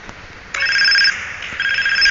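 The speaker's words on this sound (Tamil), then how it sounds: "ஃபோன் அடிக்குது." Phone ringing in the video game GTA San Andreas, a repeating electronic ringtone with two bursts of bright warbling tones, loud and close with no talk over it.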